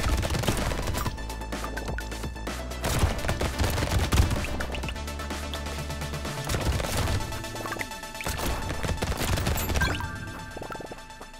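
Pump-action shotgun blasts in a video game, several heavy booming shots with crashes and impacts over a continuous layer of game music and effects, loud and dense.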